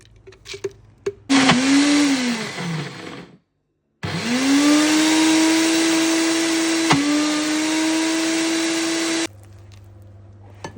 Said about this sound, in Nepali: अब मासलाई पिस्नको लागि मिक्सरमा हाल्ने।